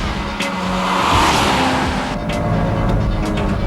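A 2001 Chevrolet Corvette C5 Z06 drives hard on a race track, its engine droning loudly and continuously with a rising, strained pitch and faint tire noise, nearly free of talk.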